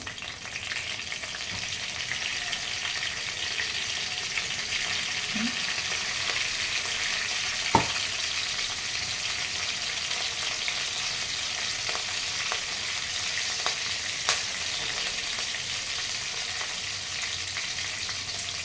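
Green chillies frying in hot oil with mustard and cumin seeds for an uggani breakfast, a steady close sizzle and crackle throughout with occasional small pops, no talking.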